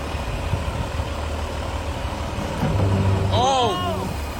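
An old bulldozer engine turns over and settles into a steady low rumbling idle, swelling louder toward the end with a brief rising squeal layered over the drone.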